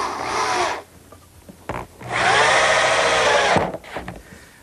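A power drill drives 2.5-inch screws into wood, two loud bursts of whirring with a short gap between them, the second longer and steady, ending with brief bumps and rubbing of the workpiece.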